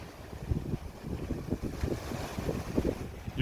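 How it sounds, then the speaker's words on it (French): Gusty wind buffets the microphone outdoors beside a parked van, a low rumbling roar with uneven thumps that rises and falls steadily under a faint hiss, with no voices. "Il y a du vent."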